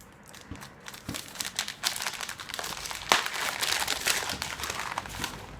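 Close, irregular crinkling and rustling of taped paper being pulled off small jars, with sharp crackles and tearing bursts in quick succession.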